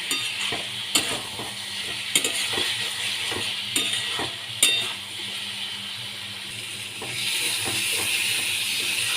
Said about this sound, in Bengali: এবার এর মধ্যে আলু আর ডিমগুলো আমি দিয়ে দিচ্ছি ভালো করে কষিয়ে নিতে হবে